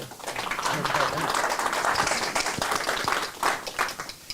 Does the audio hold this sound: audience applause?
yes